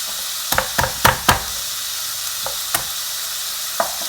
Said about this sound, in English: we have 4 cloves of garlic, and we're just going to smash these